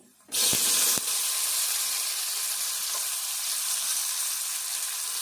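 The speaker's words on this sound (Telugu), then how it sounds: "ఇట్లా వేగినాక ఇప్పుడు వంకాయ ముక్కలు వేసుకుందాము" Eggplant pieces drop into hot oil in a pan, and a sudden burst of loud sizzling follows a couple of thuds, then settles into a steady, close frying hiss.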